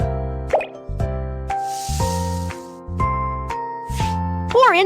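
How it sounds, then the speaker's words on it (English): Cartoon kitchen cooking game making apple tarts, with sugar added in a series of bright plopping, dripping effects over playful background music with a rising tone, repeated at a steady rhythm near and clear. "Add some sugar."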